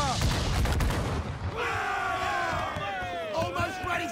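Ship cannons in Assassin's Creed IV Black Flag fire in a rolling barrage of booms, loud and close at the start, then continuing beneath shouted crew voices.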